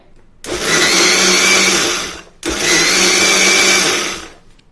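A mixer grinder whirs loudly as it grinds soaked rice into dosa batter, running in two steady bursts of a few seconds each with a short pause between them.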